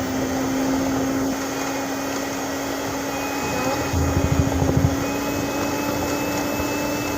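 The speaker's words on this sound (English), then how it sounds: "so let's turn on the mixer for this" An electric mixer beating lemon zest buttercream frosting, a steady close motor whir with a constant hum that roughens midway as the beaters churn the thick mixture.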